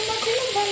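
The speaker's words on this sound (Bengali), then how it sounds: "মশলাটা দিয়ে তারপর একটু ভালো করে ভাজবো।" Spice paste frying in a pan with cauliflower and potato, a short steady close sizzle with a faint tonal hiss running through it.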